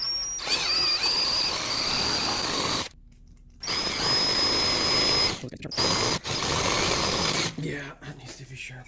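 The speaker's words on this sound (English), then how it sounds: "try to hold the drill as steady as possible and go slowly" Power drill bores steadily into a wheel lock on a Fiat 500, a loud whining grind with a high squeal, stopping briefly and restarting several times.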